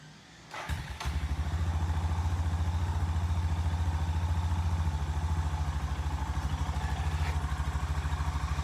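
A Suzuki DR650 motorcycle with a newly upgraded carburetor fires up after a brief crank, then settles into a steady, loping single-cylinder idle with choke on, close and loud, with rain-soaked surroundings and no talking.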